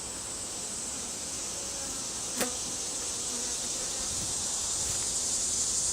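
Steady, dense buzzing of many honeybees in an open hive, a constant drone at moderate level with a brief sharp click partway through.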